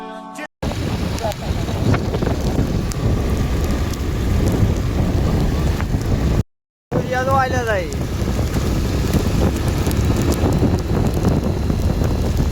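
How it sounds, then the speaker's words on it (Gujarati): A heavy downpour hisses and roars steadily, loud and close, with wind rumbling through it. Someone speaks briefly partway through, right after a short dropout. "આપણી બાજુ બહુ વરસાદ છે હો બેન"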